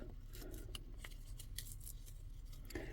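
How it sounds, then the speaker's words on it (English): Paper is torn by hand for a collage in an autumn-themed journal, giving quiet, close, crisp ripping and rustling strokes in short repeated bursts, with no talking. "And this paper actually rips pretty easy."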